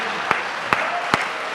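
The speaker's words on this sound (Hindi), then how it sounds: "ताली जिंदाबाद" Applause from the audience at a Hindi comedy poetry show (hasya kavi sammelan), a steady broadband clatter of clapping with a few sharper accents across the short stretch.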